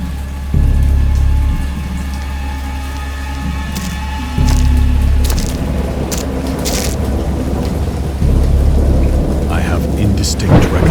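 A thunderstorm with heavy rain in the Lovecraft video game Dagon: deep rolling thunder rumbles in swells beneath a steady patter of rain, with sharp drips and knocks cutting through.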